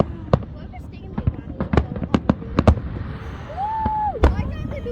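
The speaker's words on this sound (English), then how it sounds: "Why are they blue fireworks?" Fireworks exploding over Atlantis Palm Jumeirah in Dubai at a UAE National Day celebration, a rapid series of sharp, loud bangs and crackles in an uneven rhythm, with cheering and a whistle-like rising tone between bursts.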